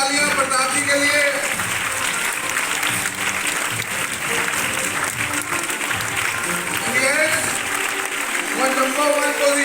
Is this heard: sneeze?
no